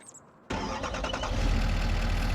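A work truck's engine in Farming Simulator 25 cranks and catches after a short quiet moment, then settles into a loud, steady idle with a deep rumble close by.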